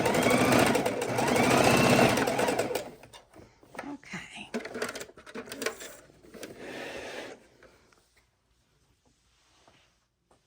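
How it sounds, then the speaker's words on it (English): A sewing machine whirs in a fast, steady needle rhythm, then slows into intermittent stitches and stops; a voice briefly speaks. "Look at that sewing machine move."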